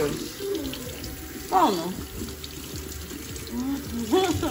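A chuck roast rinsed under a running kitchen tap: steady water streaming into the sink with splashes shifting as the meat is turned, while someone talks over it.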